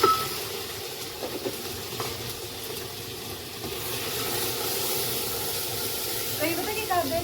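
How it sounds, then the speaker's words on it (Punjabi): An onion, garlic and ginger mixture fries in a pan with a steady, close hissing sizzle, while someone talks over it. "ਹੁਣ ਮੈਂ ਪਾਉਂਗੀ ਇਹ ਸਾਰਾ ਮਿਕਸ ਮਿਕਸਚਰ ਆ ਪਿਆਜ਼ ਲਸਣ ਅਦਰਕ ਇਹ ਮੈਂ ਇਕੱਠੇ ਸਾਰਾ ਪਾ ਦਿੰਦੀ ਹਾਂ"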